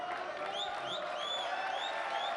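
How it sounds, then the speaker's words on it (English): Snooker crowd at a professional tournament applauding before the deciding frame, a steady, soft wash of clapping heard from a distance in a quiet arena, with no voices standing out. "They're getting good applause here ahead of the decider."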